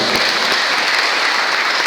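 A church congregation gives loud, dense applause during a worship service, a continuous wash of close clapping from many hands.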